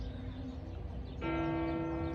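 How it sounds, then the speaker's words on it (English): Church bells of St. Peter's in Rome ring out from a distance, heard from a rooftop as a steady sustained peal that swells partway through, with no talk. "There's the bells of St. Peter's"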